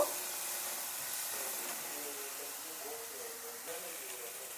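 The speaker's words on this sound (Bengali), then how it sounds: "আদা রসুনটা একটু ভেজে নেব ভালো করে, যাতে কাঁচা গন্ধটা চলে যায়" Ginger and garlic paste fries in a pan as a steady, soft hiss that continues without a break and stays fairly quiet throughout.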